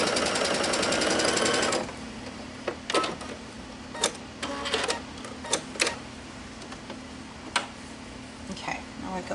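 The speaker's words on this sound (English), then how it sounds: "now I go back to sewing the strip" A sewing machine runs steadily for almost two seconds, stitching jelly roll quilt fabric strips together, then stops. Brief clicks and handling noises follow, with talking throughout.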